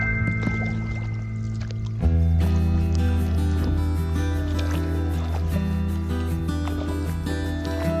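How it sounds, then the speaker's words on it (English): A canoe being paddled down the Little Indian Sioux River in the Boundary Waters wilderness, with soft watery strokes and trickling drips over a steady low hum of background noise. "paddling down the Little Indian Sioux is a lot easier than paddling up the Little Indian Sioux"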